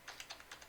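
A computer keyboard being typed on to enter an ID number: a short, faint run of about seven quick, evenly spaced key clicks.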